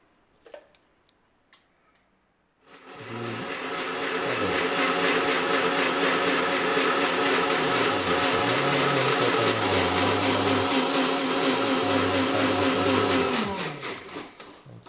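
A mixer grinder starts after a couple of soft clicks and runs loud and steady for about ten seconds, its whirring motor pitch shifting slightly, then winds down.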